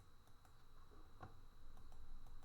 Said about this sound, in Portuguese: Dou 2 cliques, ó.